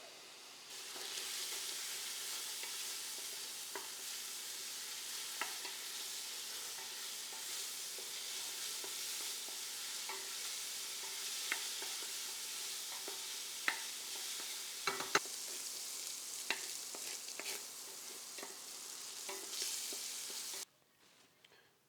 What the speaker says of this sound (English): Okay, our bacon is rendered, so we're going to remove the bacon from the pan